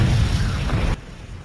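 An explosion from a grenade made out of bullets in a South Indian action movie fight scene, heard as a loud, close rumbling boom that holds for about a second, then cuts off to a quieter tail.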